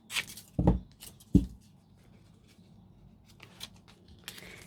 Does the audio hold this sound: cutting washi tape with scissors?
yes